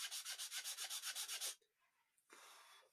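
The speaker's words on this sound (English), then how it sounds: "And I can use the sandpaper to remove mistakes." Sandpaper rubs back and forth on wood in about a dozen quick, even strokes, close and rasping. It pauses briefly, then one longer, softer sanding pass follows.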